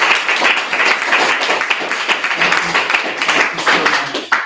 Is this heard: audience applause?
yes